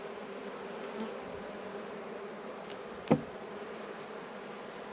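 Honey bees buzzing steadily around an open hive outdoors, a faint continuous drone with a single brief knock partway through.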